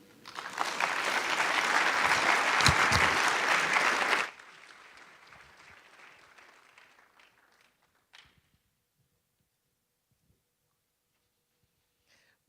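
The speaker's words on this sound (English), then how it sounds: "May we have another round of applause, please, for Her Excellency, Secretary General Green" Audience applause at a UN global supply chain forum, a loud sustained burst of clapping across a hall that stops abruptly, followed by scattered faint claps and room noise trailing off.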